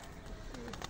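Domestic pigeons cooing at a loft in Cullera, Spain, during a flying session; a short, soft, low coo stands over steady background noise with no talking.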